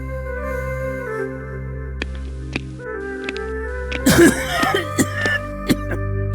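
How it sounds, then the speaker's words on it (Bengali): A burst of a few rough coughs rises briefly over sustained background music, followed by a couple of smaller throaty sounds. "আপনার যা কাশি হয়েছে দেখছি"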